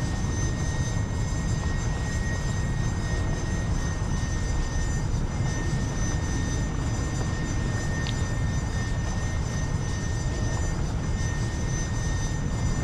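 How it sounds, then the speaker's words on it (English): A Manta aircraft in the game Carrier Command Gaea Mission flies with a constant, dense engine roar that holds steady and loud throughout, with a faint high whine running above it and no voices. "in the air, we have a single Manta flying around"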